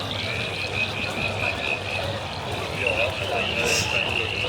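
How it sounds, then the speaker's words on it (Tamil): Frogs croak at night beside hot springs in Australia, a dense continuous chorus of trilling calls heard at a middle distance over steady ambient noise. "நைட் அந்த தவளைங்கெல்லாம் கத்திட்டு இருக்கு பாருங்க, சவுண்டு கேட்குதுங்களா?"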